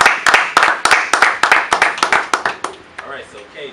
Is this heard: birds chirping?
no